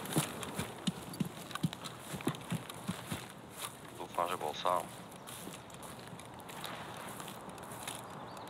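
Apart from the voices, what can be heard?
footsteps of another player in a video game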